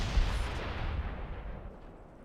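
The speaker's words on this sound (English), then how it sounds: "What was that shot? Okay, he is barraging right there." An artillery barrage from the WWII strategy game Company of Heroes: a heavy booming shell impact near the start, then a low rumble that fades steadily over two seconds, with no talking.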